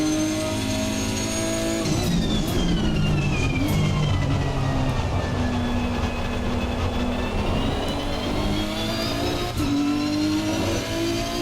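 Race car engine lapping the Nürburgring Nordschleife in the racing game Assetto Corsa Competizione, a loud, steady drone that rises and falls through gear changes and revs, with no talking.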